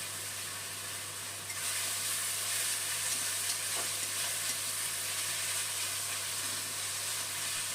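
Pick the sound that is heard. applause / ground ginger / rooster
ground ginger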